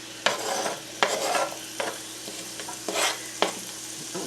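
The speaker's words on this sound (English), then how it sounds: "I'm going to add my onion." Chopped onion is added to carrots in a hot pot, and a soft sizzle runs beneath repeated scraping strokes of a spoon against the pot. The sounds are close and fairly quiet, with no talking.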